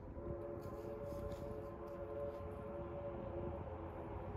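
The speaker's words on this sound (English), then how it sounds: "And you can hear that whistle in the distance from number 40." Steam locomotive No. 40 of the New Hope & Ivyland Railroad sounding its whistle in the distance during a Santa Claus Special run, a steady faint tone sitting in a constant rumbling outdoor background.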